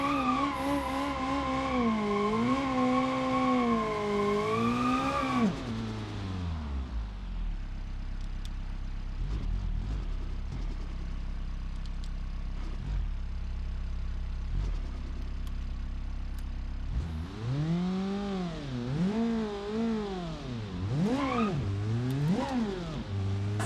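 A car engine in the BeamNG.drive video game revs hard at launch on a drag pass, with rising and falling pitch. A lower rumbling stretch follows, then more loud revving with gear changes and tire noise near the end, no talking.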